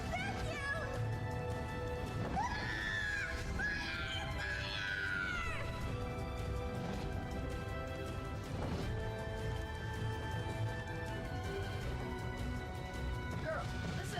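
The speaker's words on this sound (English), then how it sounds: "Don't you hear all that screaming?" Battle cries and scattered screaming from the Drakengard 3 video game, mixed with clashing hits, swelling in the middle of the stretch under steady game music.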